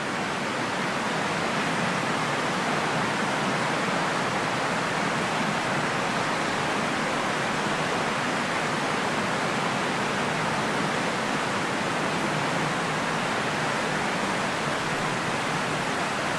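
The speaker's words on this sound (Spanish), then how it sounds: "para ver si con este ruido rosa se puede llegar a formar alguna psicofonía" Steady, loud pink noise hisses without a break from a device, played during a night-time spirit-voice session at Zugarramurdi, with no talk or other sounds standing out.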